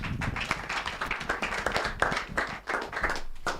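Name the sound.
audience clapping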